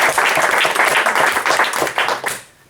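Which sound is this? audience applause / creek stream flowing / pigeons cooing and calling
audience applause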